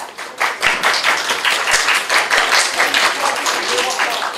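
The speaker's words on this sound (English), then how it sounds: "one more round of applause here for the" An audience claps for a speaker on therapeutic humor: dense, loud, close applause of many hands that holds steady throughout with no talking.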